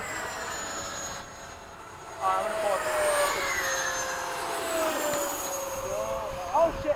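An FMS 80mm Hawk RC jet and Eflite 80mm Havoc RC jets fly overhead, a steady high turbine whine sweeping in pitch as they pass at moderate distance, with outdoor background noise.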